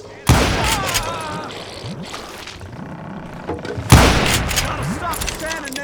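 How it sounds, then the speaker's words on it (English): Two loud volleys of gunfire burst out in the Western shooter Call of Juarez: Gunslinger, each a sudden dense rattle of overlapping shots that decays slowly, with a quieter stretch between them. "a fusillade of bullets come raining down from on high"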